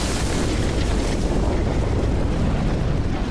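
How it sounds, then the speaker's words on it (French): A dense, sustained roar of broadband rumble with no distinct onset, a volcanic eruption's lateral blast thundering steadily throughout. "Le souffle de l'explosion se propage à près de 500 km à l'heure"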